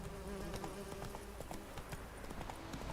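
A horse's hooves clip-clop in a quick, even trot while being ridden in The Witcher 3, the rhythmic beats fairly faint over a soft background hum.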